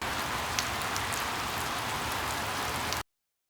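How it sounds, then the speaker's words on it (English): Steady rain falling in northern Japan, a dense even hiss of drops on surfaces with faint individual patters, continuous for three seconds before cutting to silence. "The rain didn't stop."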